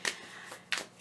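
Tarot cards being shuffled, a few quick, soft riffling bursts close by at low volume, with no voices.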